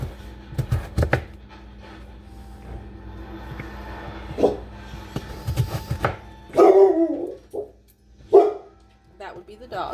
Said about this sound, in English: That would be the dog.